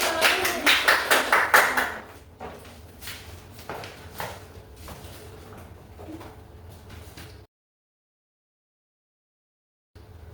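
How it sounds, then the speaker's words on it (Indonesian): Students in a classroom clap for a group that has just presented, a burst of sharp claps up front that thins into scattered taps and shuffling before dropping to silence. "Boleh tepuk tangan lagi."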